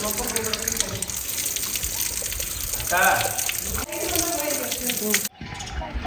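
Water runs from a tap at a stone temple tank, a steady splashing gush close by, with someone talking over it before the sound cuts off near the end.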